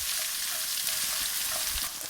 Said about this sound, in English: So I've taken 6 really large red onions, sliced them up, and we're just going to saute them till they get a